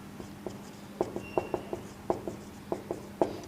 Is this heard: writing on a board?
yes